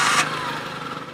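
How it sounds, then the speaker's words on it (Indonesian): A 2003 Suzuki Futura van engine cranks and catches, a brief burst of starter noise settling into a rough idle rumble, close and moderately loud. "Coba kita sekarang starter mesinnya."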